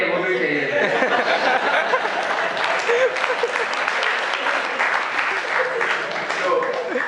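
Sustained applause from an audience at a Hindi comedy poetry event (kavi sammelan) at IIT fills the whole stretch, loud and steady, with scattered laughter mixed in.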